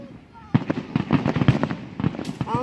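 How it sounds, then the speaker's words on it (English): Fireworks burst in quick succession at a public display, a run of loud close booms and crackles with people talking over them. "there was just big boy fireworks right there"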